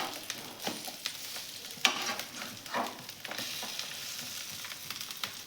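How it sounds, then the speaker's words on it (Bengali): Egg-dipped bread slices fry in a pan, a faint, soft sizzle dotted with light scrapes and taps as the slices are turned over, with no talking. "এপিট ওপিট করে সব পাউরুটিগুলো ভেজে নিচ্ছি।"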